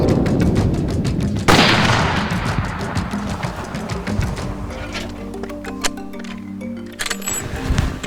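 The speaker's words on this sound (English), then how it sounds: "Very good shot, printing right next to the other one." A single loud rifle shot cracks out while hunting Cape buffalo in Zimbabwe, with its boom rolling away into the open bush, then quieter rustling and a faint low hum.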